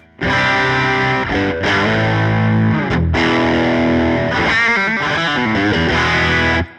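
An electric guitar played through a Vemuram Jan Ray overdrive pedal, loud and saturated, with sustained distorted chords and a few changes, no voices.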